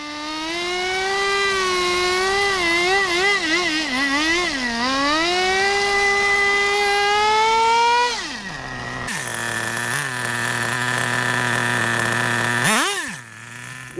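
A Redcat Rampage TT nitro RC truck engine runs rich with a two-speed gearbox, a loud, close, high buzzing whine that rises and falls with throttle, then shifts to a higher, harsher pitch near the end.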